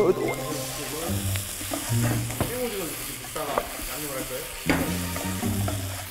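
Squid stir-fry sizzling and frying in a pan while being stirred, steady crackle with scraping stir strokes throughout, close and fairly loud; faint voices in the background.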